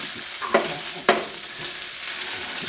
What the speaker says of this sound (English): chilies in here, our green onions. I'm going to stir that in there.